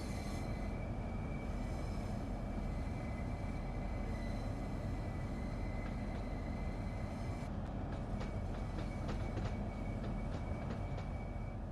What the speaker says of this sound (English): This particular train is a Class 395 Javelin built by Hitachi in Japan for European operation.